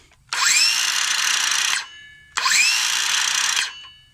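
Craftsman V20 cordless circular saw revving up and spinning freely twice, each burst a smooth high whir lasting about a second and a half, ending in a quick braked stop, with no cutting.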